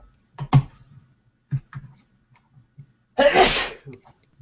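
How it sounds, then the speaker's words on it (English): A single loud, close sneeze from a person with allergies bursts out after a few small breaths and sniffs, with brief murmurs of talk around it. "gonna sneeze again"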